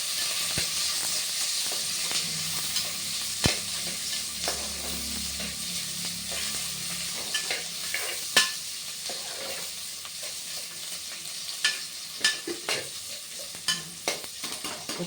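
Onion, cinnamon and cardamom fry on high heat, a steady close sizzle and hiss broken by sharp scraping clicks of stirring throughout, with no talk.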